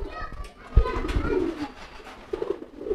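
Homing pigeon cooing up close, a few soft throaty coos with handling bumps and faint voices nearby.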